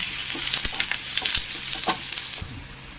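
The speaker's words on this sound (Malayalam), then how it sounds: "ഒരു ചെറിയ സവോള അരിഞ്ഞ് വെച്ചിട്ടുണ്ട് കറിവേപ്പിലയും കൂടി ഇട്ട് കൊടുത്ത് അതൊന്നും നേരത്തെ വരട്ടെ" Chopped onion and curry leaves fry in a pan with a loud, bright sizzle, broken by a few sharp scraping stirs before the hiss drops off near the end.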